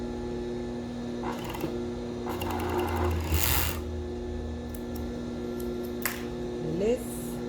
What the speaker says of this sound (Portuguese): eu vou fechar aqui na overlock